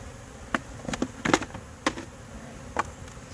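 Honey bees buzz around hive frames at a backyard hive, a steady low hum close by, punctuated by scattered light taps and knocks of the frames being handled, with no talking.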